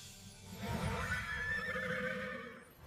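A horse neighs and whinnies in a fairy-tale scene where mice have become beautiful white horses drawing a golden carriage, a loud drawn-out call with a rumbling low layer, sustained for nearly three seconds.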